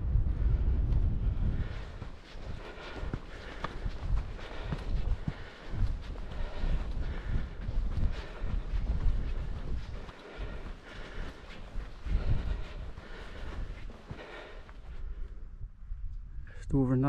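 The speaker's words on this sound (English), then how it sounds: "Really cold wind now" Cold wind roars across a hilltop above Kidland Forest and the Coquet Valley, a loud, blustery rumble buffeting the microphone almost the whole time, with someone talking over it.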